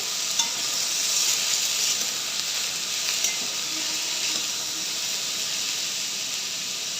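Chopped French beans sizzle in a hot frying pan while being stirred, a loud, continuous hiss with occasional scraping taps from the spoon.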